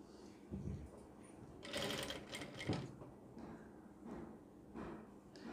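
Sewing machine stitching a small front neck design piece for a garment, with short bursts of rapid mechanical whirring separated by pauses and handling thuds, close by.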